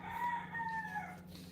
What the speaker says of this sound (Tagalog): Manok ng kapitbahay ko.